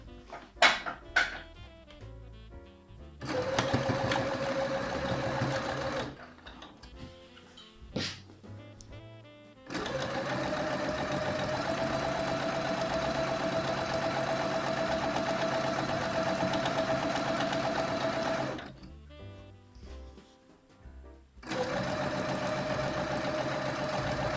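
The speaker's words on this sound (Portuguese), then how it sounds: "Faremos então aqui a fixação com retrocesso no início, tal como fizemos na outra peça." A sewing machine stitches an apron piece, opening with a few quick stop-start backstitch bursts. It then runs in long, steady, whirring stretches with brief pauses between them, close and fairly loud, with no talking.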